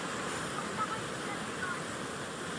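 Wind blows across a beach on Boracay, a soft, steady rushing with a faint wash of surf, low in level and continuous throughout.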